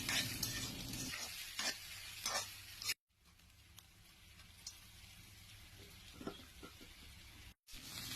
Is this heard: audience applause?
no